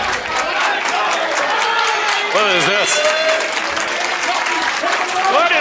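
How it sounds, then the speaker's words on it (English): A wrestling crowd at a Limitless Wrestling show cheers and applauds for Eric Greenleaf. The roar is steady and loud and fills the room, while a commentator speaks over it. "What is going on in 2025 where they are cheering Eric Greenleaf?"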